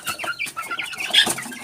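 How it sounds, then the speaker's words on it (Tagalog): Chicks and chickens at a local farm clucking and chirping excitedly during feeding, a busy cluster of short bright peeps close by with a louder burst near the end. "Tapos dito naman tayo sa mga sisiw."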